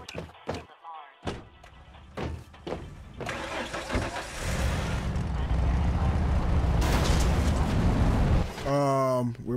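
A vehicle engine starts in the Red Faction Guerrilla video game, with door thunks and clicks first, then a cranking catch and a steady mid-pitched engine run. A brief game sound comes near the end.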